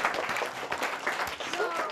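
Children and audience clap for a group at a children's quiz, a lively patter of applause mixed with voices and crowd noise throughout.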